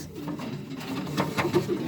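Breeding pigeons in a loft give soft, low, rolling coos close by, with a few repeated notes toward the end over a muffled indoor background.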